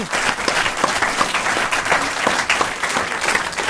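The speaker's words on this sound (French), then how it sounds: "Allez, on vous applaudit tous les deux" Audience applause at a comedy festival in Alpe d'Huez, loud sustained clapping from a crowd with uneven swells, without voices on top.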